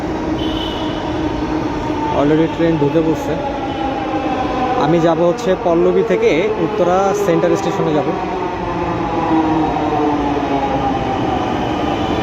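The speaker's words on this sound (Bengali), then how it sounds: "অলরেডি ট্রেন ঢুকে পড়ছে" Metro train pulling into a station platform, a steady rumbling roar with rising and falling wheel and motor whines lasting throughout, heard close under someone talking.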